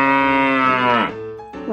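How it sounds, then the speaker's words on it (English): A single long, loud cow moo close by, a drawn-out tonal low ending in a falling dip, followed by a brief softer second call. "Hello, mooing cows."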